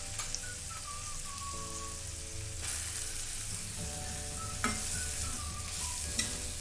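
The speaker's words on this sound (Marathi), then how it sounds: "खोबरं देखील छान परतून घ्यायचं आहे" Steady sizzling as freshly ground coconut fries in a pan, with occasional scraping and stirring clatter from a spatula, continuous and fairly close.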